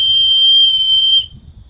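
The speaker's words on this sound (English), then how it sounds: "I've got a whistle should I need to signal people" A shrill emergency whistle from a car survival kit blown in one steady, loud, piercing blast held for just over a second, then cut off abruptly into quiet room tone.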